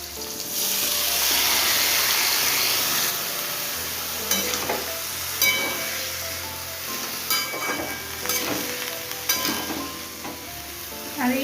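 Bottle gourd stalks tossed into a hot pan with bottle gourd greens, a loud sizzle that settles into steady frying, with repeated scraping and clinking as the mixture is stirred.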